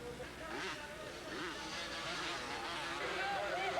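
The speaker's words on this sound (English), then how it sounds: "And as you hear the 125 engine scream," High-pitched 125cc motocross motorcycle engines scream and rev together at a 1988 race in Millville, Minnesota, several bikes whining at once with rising and falling pitch, loud and fairly close.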